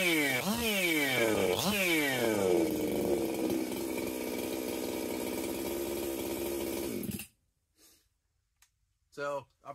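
A Husqvarna 262xp chainsaw, warm after carburetor work, blips its throttle twice in quick rising revs, then idles roughly for a few seconds before shutting off, leaving near silence with a couple of faint clicks.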